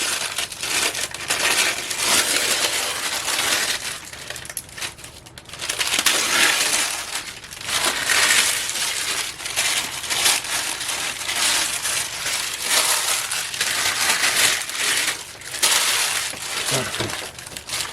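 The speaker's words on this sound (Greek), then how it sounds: "Ανοίγουμε τη λαδόκολλα." Crinkly rustling and crackling of parchment paper being opened around a loaf of village bread with leek and feta mid-bake, a steady close, dense papery crunch lasting throughout with brief dips.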